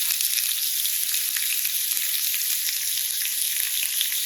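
A beef tenderloin steak rubbed with oil, ground pepper and sea salt sizzles loudly in a grilling pan, a steady, dense hiss that never lets up.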